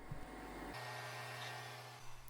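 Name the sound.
Lefant M5 Pro robot vacuum cleaning and mopping tiled floor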